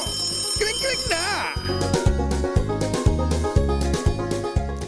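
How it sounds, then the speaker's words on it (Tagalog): On a Filipino afternoon radio show, a telephone-ring sound effect plays as a brief warbling trill near the start. A loud, rhythmic music bed with punchy beats then follows. "hintayin ang aming tawag sa telepono. Kring-kring na!"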